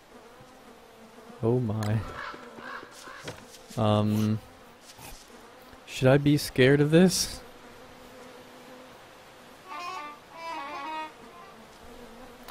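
Bees in the video game Don't Starve buzz in several short, loud bursts that come and go, with a player talking in between and over the droning.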